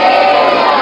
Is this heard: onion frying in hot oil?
no